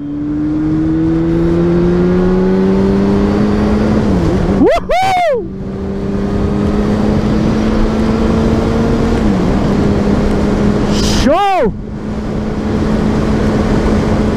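A Yamaha FZ6 motorcycle rides away from Feira Nova in Pernambuco, its engine droning steadily and loudly as the pitch climbs slowly, with two brief sharp revving bursts interrupting the steady run.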